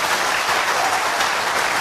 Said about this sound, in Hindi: लेकिन ताली तो बजा दिया करो भाई